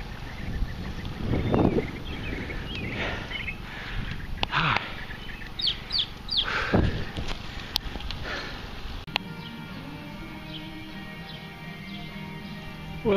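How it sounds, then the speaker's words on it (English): Chickens clucking outdoors during a summer bike ride, several soft intermittent clucks and bird calls amid wind and rustling, moderately distant, with the scene settling into a quieter steady background near the end. "I wish you'd look at these pretty chickens."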